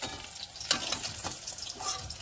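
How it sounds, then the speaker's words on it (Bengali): Fish frying in a pan at home, a steady close sizzle and crackle running throughout with a few brief sharper spits over the hiss. "এক এক করে মাছ ভেজে নিলাম।"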